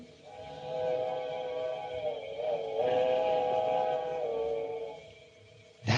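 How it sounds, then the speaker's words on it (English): Steam-era train whistle from an approaching midnight train in a radio drama, a long sustained harmonic wail that swells and bends slightly in pitch, ending with a sharp louder burst. "The midnight train."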